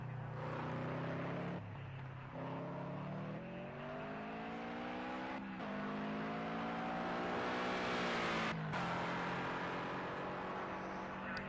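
A race car engine in a racing video game drones continuously through a lap of Spa, with rising and falling revs, gear shifts and brief dips as it brakes, loud and steady throughout.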